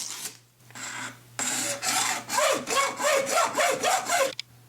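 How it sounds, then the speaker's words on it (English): A hacksaw cuts through 1 1/4 inch PVC pipe, starting with a few tentative strokes before settling into about eight steady, rhythmic back-and-forth rasping strokes, close and clear with no talking. "Make a circular cut with your hacksaw."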